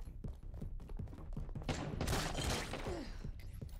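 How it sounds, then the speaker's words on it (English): Gunfire in the Resident Evil RE:Verse game: a rapid volley of close, sharp shots builds into a dense burst of firing, then trails off into scattered reports. "Who is shooting at me?"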